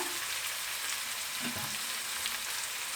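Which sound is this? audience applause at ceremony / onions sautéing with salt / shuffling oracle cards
onions sautéing with salt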